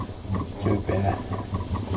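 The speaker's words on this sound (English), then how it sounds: "drying with the airbrush." A steady airbrush hisses air across fresh paint to dry it, a soft continuous blowing with slight fluctuations, heard close and alone for about two seconds.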